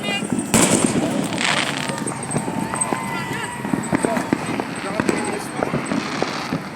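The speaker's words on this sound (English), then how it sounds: "Oh, around there's fireworks going off." Fourth of July fireworks pop and crackle in a scattered series of sharp bursts nearby, mixed with people talking and moving around outdoors.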